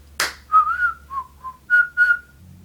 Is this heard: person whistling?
yes